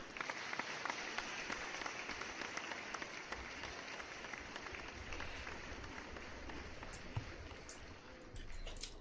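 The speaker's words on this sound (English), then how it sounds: "let me give you an applause and everybody here" A crowd gives steady, dense applause for a donor, a continuous wash of clapping lasting the whole stretch at moderate level, with no distinct voices rising above it.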